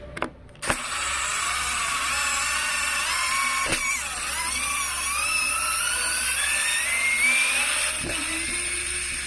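An electric screwdriver, tested among Bosch Go2, Stanley Fatmax, Worx and Neo Tools models, unscrews a tight screw with a strained, steady high motor whine that shifts pitch under load, framed by sharp clicks.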